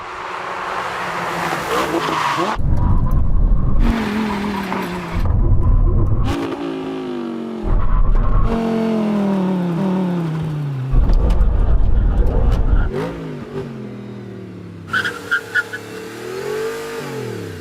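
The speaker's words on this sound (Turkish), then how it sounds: "Saatte 160 km hızla konilerle ulaştığımızda tam acil duruş." Audi R8 sports cars brake hard in full emergency stops from 160 km/h at a cone-marked test area, with loud engines, downshifts and tire squeal in repeated surges and brief quiet gaps.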